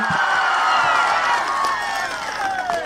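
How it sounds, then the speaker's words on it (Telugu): A large crowd at an outdoor political rally claps and cheers loudly and steadily, a dense wash of applause and whistles with voices mixed in. "ఆ అమ్మాయి చెప్పింది నిజమనుకుంటే గట్టిగా చప్పట్లు కూడా చెప్పండి"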